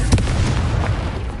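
A Confringo fire-blast spell cast in Hogwarts Legacy, a loud, heavy low boom followed by rumbling bursts lasting over a second, with no voices.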